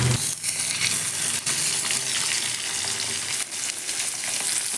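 Small falui fish slid into hot oil in a wok give a loud, continuous sizzle close by, broken by a few sharp crackles and pops.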